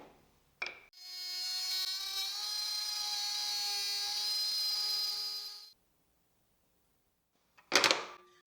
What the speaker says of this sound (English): I'll use the router with a 6 millimeter straight bit and the edge guide to make a groove